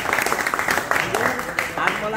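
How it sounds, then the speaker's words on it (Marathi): Applause at a Hindu devotional gathering, an akhand harinaam saptah: a crowd claps in a brief burst of dense clapping mixed with voices, close and fairly loud. "हे टाळ्या वाजवा पोरांनो"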